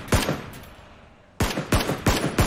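Submachine gun fire in PUBG, a sharp burst at the start, a short lull, then a rapid run of four loud close cracks in quick succession.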